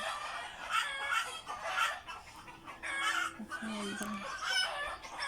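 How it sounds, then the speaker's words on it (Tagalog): Chickens cluck in short bursts nearby while a rooster's crow rises briefly in the background, a busy farmyard chorus at moderate volume. "Maririnig mo lang talaga yung mga manok na maingay."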